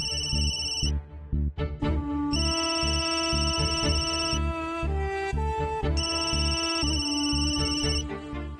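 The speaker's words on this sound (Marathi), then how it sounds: "फोन कोणाचा आहे?" A mobile phone ringtone plays loudly and continuously, a bright repeating melodic tone pattern that pauses briefly near the start and then rings on without voices.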